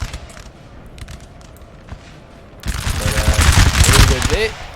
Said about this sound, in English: Get as many French guns firing is what I would do.